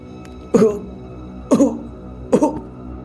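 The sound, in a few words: coughing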